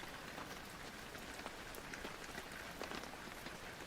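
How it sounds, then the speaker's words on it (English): Steady rain in the video game Penumbra: Overture patters on a surface, a dense even hiss of droplets with occasional slightly louder taps, continuous and unbroken. "You hear rain?"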